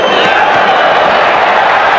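Boxing crowd roaring during a lively exchange in an amateur bout featuring Meldrick Taylor, a loud, dense wall of cheering and shouting filling the arena, sustained throughout with a commentator's voice mixed in.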